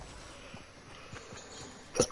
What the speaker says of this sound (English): Even if I go to yawn, I still get the fucking hiccups